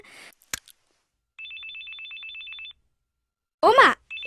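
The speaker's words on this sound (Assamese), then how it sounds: "অ' মা এইটো লোৱা নন্দ মামাই ফোন কৰিছে" A mobile phone rings with an incoming call, a repeating electronic two-tone ringtone that starts and then recurs, with brief bursts of speech before and between the rings.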